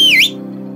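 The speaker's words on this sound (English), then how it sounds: "Then the old jellyfish whistled loudly." A single loud, sharp whistle sweeps down and then back up in pitch, given by an old jellyfish in a children's bedtime story, then cuts off abruptly and leaves a steady low hum.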